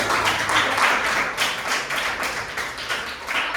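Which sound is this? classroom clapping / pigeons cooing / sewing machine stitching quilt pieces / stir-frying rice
classroom clapping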